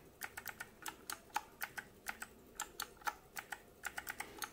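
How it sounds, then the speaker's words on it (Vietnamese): An RK61 60% mechanical keyboard with blue switches is typed on, with crisp, clicky keystrokes in an uneven rapid rhythm, heard close and alone. "để mình test hai cái bàn phím"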